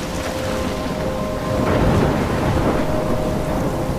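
Thunderstorm in the video game Life Is Strange: steady heavy rain with a rolling rumble of thunder swelling midway, loud and continuous throughout.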